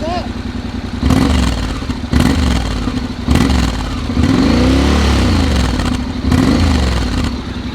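A 2021 Honda Forza scooter idles with a low, steady engine hum, while recurring broadband gusts of noise wash over it.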